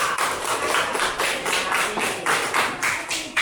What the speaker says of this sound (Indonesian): tepuk tangan untuk kelompok merah